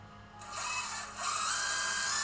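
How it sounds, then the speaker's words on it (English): An electric power drill spins clockwise, whirring up from quiet after a moment and then rising to a higher, steady, close buzz that continues to the end. "So I'm setting up my power drill to go clockwise"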